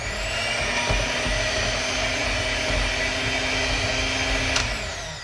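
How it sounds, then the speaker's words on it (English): An electric mixer beating shortening for molasses cookies gives a steady, loud motor whir that holds continuous and unbroken throughout. "I need a new mixer."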